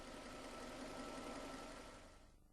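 A Toyota car engine idles steadily during a power steering system check, a close, even mechanical rumble that fades slightly toward the end.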